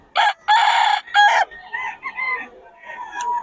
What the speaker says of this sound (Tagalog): dami na naman manok